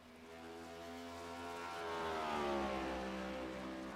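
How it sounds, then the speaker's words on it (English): Toyota race cars in a racing video game roar past on a track, a sustained engine drone with stacked harmonics that rises in pitch and swells to a peak before easing slightly, loud and continuous with no talk. "Man, I hear that, a Toyota"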